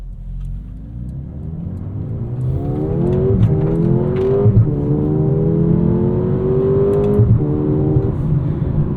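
A 2024 Mercedes GLA 35 AMG accelerates hard in sport mode, its engine note climbing steadily through several gear changes, loud and close throughout with no talking.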